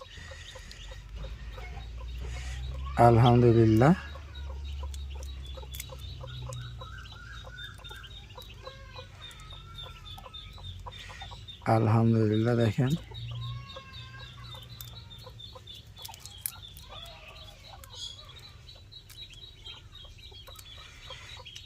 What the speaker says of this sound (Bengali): এই যে চীনা হাঁসের বাচ্চাগুলো দেখতে পাচ্ছেন